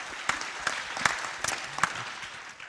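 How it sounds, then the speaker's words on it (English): Audience applause at a startup panel session, a broad steady wash of clapping from a seated crowd with a few louder individual claps standing out. "Can we give a big round of applause to those 3 people who's doing startups?"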